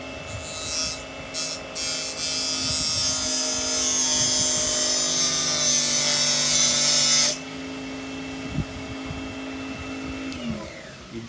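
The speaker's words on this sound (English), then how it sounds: "now I'm going to sharpen it the way he said" A blade is sharpened with a Tiger Teeth sharpener, giving a steady, loud grinding rasp that holds for about seven seconds, then gives way to a quieter hum and a few scraping strokes toward the end. No one speaks.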